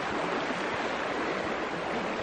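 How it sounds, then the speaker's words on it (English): A stream in Redwoods National Park rushes nearby, a steady, dense, fairly loud hiss of moving water with no break and no voices. "I love the sound of moving water."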